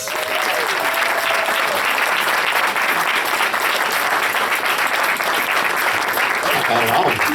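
A convention crowd at a voice acting panel gives loud, close applause, with dense clapping sustained throughout and a few cheers and a voice rising near the end.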